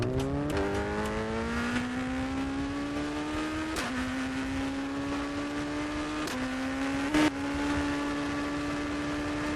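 Simulated car engine in a racing video game held at a steady high drone through corners, with sharp gear-shift dips and rises every few seconds and no talking.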